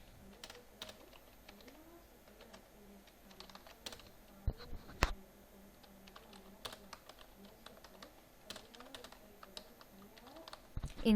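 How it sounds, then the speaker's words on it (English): Steady tapping of fingers on a computer keyboard, irregular quick keystrokes continuing throughout at a quiet level. "For example, I am typing some words here."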